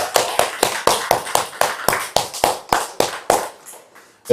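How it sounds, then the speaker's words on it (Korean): Small church congregation at a Methodist Sunday morning service claps in thanks: about fifteen loud, fairly even claps in a steady rhythm, close and distinct, tapering slightly near the end. "우리 감사로 박수 한번 드리겠습니다."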